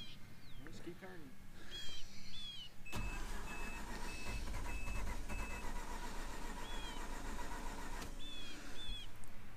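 A Mazda RX-8 cranks with the key held down, then catches into a loud, steady run close by, with whining tones and chirps alongside and voices faintly around it.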